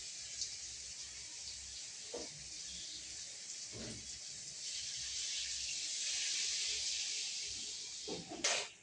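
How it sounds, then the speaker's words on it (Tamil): Dissolved tamarind water pours steadily into a pot of urindha kuzhambu as a faint, continuous hissing trickle, with a few soft clinks and a louder knock at the end. "இப்போ கரைச்சி வச்சு புளியை ஊற்றிக்கலாம்."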